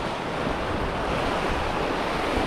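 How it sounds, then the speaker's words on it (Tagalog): Strong sea current surging at high tide at a coastal fishing spot, a steady loud wash of surf and rushing water mixed with wind buffeting the microphone throughout. "Maganda yung agos ngayon medyo malakas"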